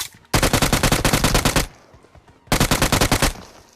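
UMP submachine gun fire in PUBG Mobile: two loud, close bursts of rapid automatic shots, the first running about a second and a half, a short pause, then a second burst of about a second.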